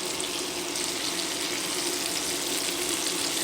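Fish pieces tossed into a pan of roasting garlic for a Spanish chorizo and fish stew, giving a steady, close, broadband sizzle that holds evenly throughout with no talking.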